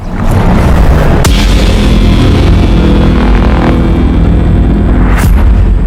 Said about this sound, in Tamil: இப்ப எதுக்கு பட்டாசு?